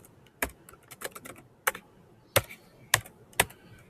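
Computer keyboard typing comes in irregular close clicks and sharper key strikes, a few louder taps standing out, fairly quiet overall with no talking.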